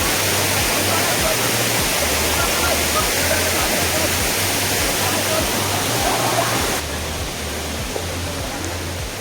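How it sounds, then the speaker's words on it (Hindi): A big waterfall at Andhiyar Jhola pours in a dense, constant roar of broadband rushing water, loud and unbroken throughout, with a low rhythmic thumping underneath. "ये है तीसरा नंबर के झरना, जो बड़े वाला झरना है"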